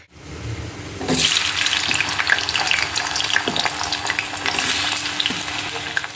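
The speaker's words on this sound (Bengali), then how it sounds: "পেঁয়াজটা ভাজতে দিয়ে দিয়েছে কড়াইতে" Onion frying in a kadai in a hot home kitchen, a loud, steady sizzle that starts abruptly after a second of quiet and keeps going with occasional stirring clinks and no talking.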